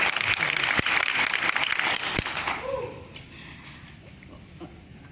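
An audience at a health and business testimonial presentation claps in a brief burst of many hands, loud at first and then dying away after about three seconds into quieter room noise.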